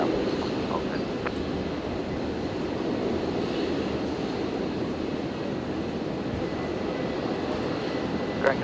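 A China Eastern airliner taxis at Brisbane Airport, its engines a steady, even roar heard from a distance, with no talk.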